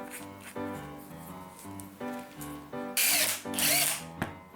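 An aluminium rod clamped in a drill chuck spins, shaped into a dowel-hole jig, with a steady motor whine and harmonic hum, then louder bright grinding bursts near the end.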